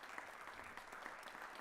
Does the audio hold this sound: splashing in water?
no